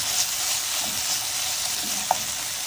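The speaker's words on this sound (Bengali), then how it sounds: "মশলা ফ্রাই হয়ে এসছে।" Spices (masala) frying in a pan for watermelon rind curry, a steady close hissing sizzle with a single small clink partway through and no talk.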